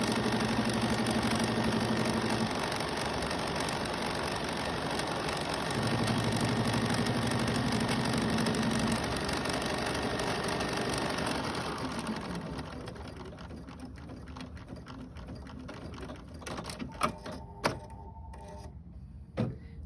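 An embroidery sewing machine stitches down quilt batting in the hoop, a steady whirring hum for about twelve seconds before it winds down and stops. A few faint clicks and handling sounds follow, with no talking.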